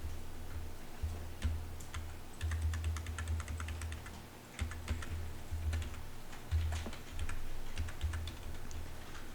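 Steady typing on a computer keyboard, near and fairly quiet, with rapid irregular key clicks over a low background hum.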